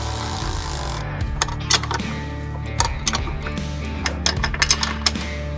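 Running board mounting hardware on a 2015-2020 Ford F-150 being tightened with a power tool, a steady mechanical whir broken by repeated sharp metallic clacks and ratcheting bursts, close and fairly loud, with no voices.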